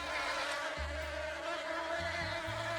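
Steady, continuous insect-like buzzing of bees, dense and droning throughout, with a low rumbling hum underneath.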